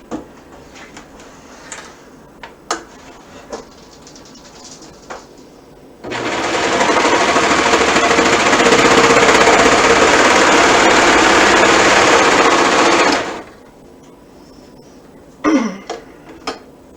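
A sewing machine runs in one steady, loud continuous burst of stitching along the short edge of a piece of fabric, with quiet handling noises before and after.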